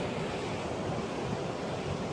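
Ocean waves roll far below a high lookout in Puerto Rico, heard as a dense, continuous surf roar mixed with wind buffeting the microphone, loud and unbroken.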